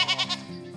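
Cashmere goats on a Tennessee goat farm give a short, quavering bleat, close and clear, followed by a softer lower call.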